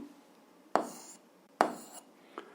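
Two sharp taps of a pen or chalk writing an equation, each followed by a short scratchy stroke, then a fainter tap, close and quiet in a still room.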